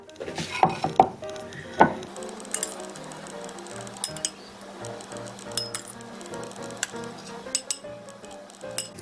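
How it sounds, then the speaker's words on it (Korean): A Korean cucumber side dish is transferred into a bowl with a series of light clinks and taps of utensils against dishware, scattered irregularly, close by and without talking. "제가 그릇에 담아 보겠습니다."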